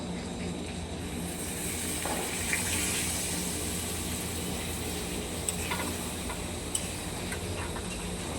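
Water, used to rinse out a cornflour bowl, goes into a sizzling pan of chilli chicken. It makes a steady, even hiss and bubbling that runs the whole time, with a few small clicks and no voices.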